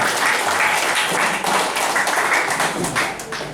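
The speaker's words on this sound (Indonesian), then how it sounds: "Aplaus kita." A crowd at a community gathering applauds, a dense burst of clapping that stays loud and steady before tapering slightly at the end.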